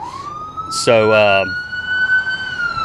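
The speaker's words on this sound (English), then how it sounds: "we're gonna let that ambulance go by" A passing ambulance siren wails steadily in the background throughout, its tone slowly climbing, while someone briefly speaks over it.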